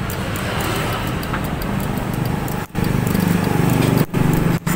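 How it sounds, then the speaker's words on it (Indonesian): A Honda Beat injection scooter's starter motor runs on its own with a fast, steady whirring buzz at close range, broken by two or three brief dropouts. "Boleh teman-teman, ini langsung hidup starternya sendiri."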